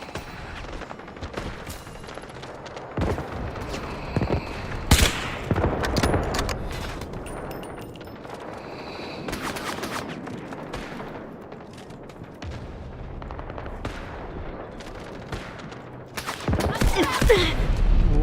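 Gunfire in the Delta Force video game, with bursts of automatic fire and sharp single shots mixed with booms over a steady battle din, while players talk over it.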